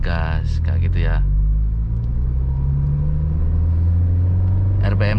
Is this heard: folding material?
no